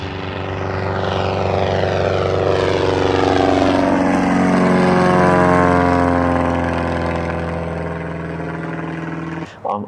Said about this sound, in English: This is my airplane.